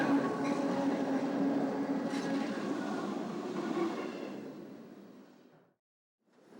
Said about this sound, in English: Suddenly, we hear the pulse of an approaching train.